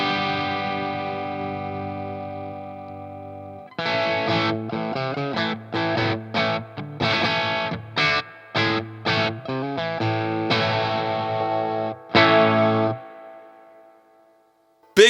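An electric guitar through a distortion pedal set to Germanium and Classic modes, with a sustained ringing chord followed by choppy, rhythmic distorted chord stabs and a final hit, loud and alone.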